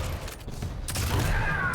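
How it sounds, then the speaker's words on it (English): Rocket fire in Quake Champions during a tournament match, a dense burst of explosive blasts and mechanical weapon noise, loud and continuous across the moment without any talk. "Ah, the air rocket."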